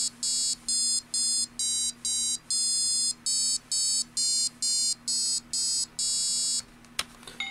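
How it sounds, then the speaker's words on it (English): Arduino board driving a piezo element to play Twinkle Twinkle Little Star, a series of shrill, buzzy electronic tones in a steady note-by-note rhythm, fairly close, ending with a click. "I'll plug the Arduino board in and we'll hear Twinkle Twinkle Little Star."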